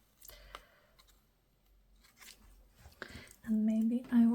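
Scissors snip through paper from a 6x6 craft pad in a few faint, quick cuts near the start, followed by quiet rustling and a voice speaking toward the end.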